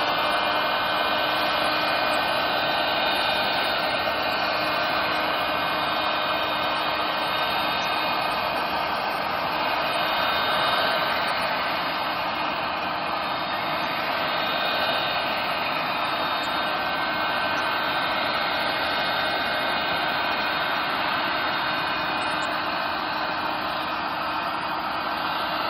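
A heat gun blows steadily on cast vinyl wrap film, a constant loud airy roar with a faint whine that holds unchanged for the full stretch, with no voices.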